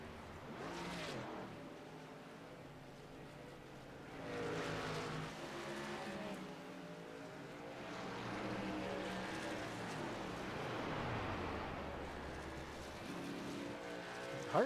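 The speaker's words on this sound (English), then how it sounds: "You ride along with the 43 and you can hear him shutting the truck off down into the corners." Race trucks lap a circuit in the iRacing simulator, their engines droning and swelling in repeated waves as they lift off into corners and accelerate out, at moderate level with no talk.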